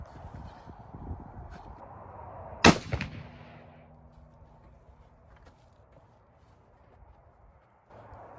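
A single sharp, loud rifle shot from a Winchester Model 70 Extreme Weather in .264 Win Mag with a 24-inch barrel, cracking outdoors and rolling into a fading echo, preceded by quiet shuffling and footsteps.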